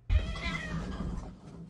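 A cat in a television drama gives one loud, drawn-out meow that starts abruptly and trails off over about a second and a half.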